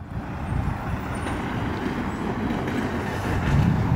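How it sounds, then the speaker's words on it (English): Petrol tanker truck rolling past on a road in Blue Lake, California, a low rumbling engine and tire roar that swells gradually and grows loudest near the end, with no talk over it. "Here come that petrol truck"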